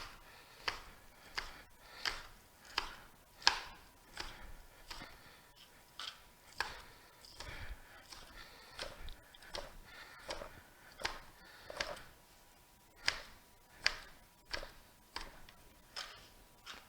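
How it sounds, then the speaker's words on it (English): Quiet, evenly spaced knife chops on a cutting board, a steady tapping rhythm that repeats over and over with no voices. "we're going to chop it really small"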